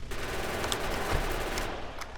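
Rapid automatic gunfire rattles continuously, a steady burst of shots from a vehicle-mounted weapon in Factorio.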